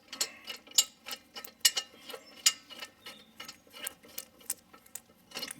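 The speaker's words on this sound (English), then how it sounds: "Goes much faster with an air ratchet." An air ratchet spins the rear brake bolts off a 2016 Subaru CrossTrek during a pad and rotor job, giving a fast series of sharp, rattling clicks and bursts at close range with no talking.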